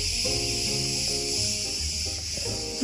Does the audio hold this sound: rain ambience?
no